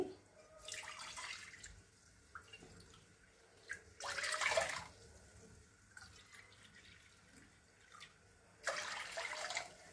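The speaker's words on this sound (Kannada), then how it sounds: "ಒಂದು 3 ತಟ್ಟೆ ನೀರು ಹಾಕ್ಕೋತಾ ಇದ್ದೀನಿ" Water is poured from a plate into a pan set on a gas stove, in three separate splashing bursts with quiet gaps between them, close and alone.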